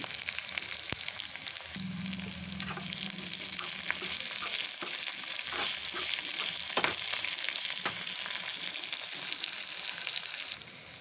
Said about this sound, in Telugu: వెల్లిపాయలు ఉల్లిగడ్డ అయితే యాడ్ చేసుకొని మంచిగా కలుపుకోవాలి